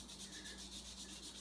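Hand sanding the front wheel of a Triumph Rocket motorcycle gives a soft, steady rhythmic rubbing, back-and-forth strokes repeating close up and quiet, with no voices.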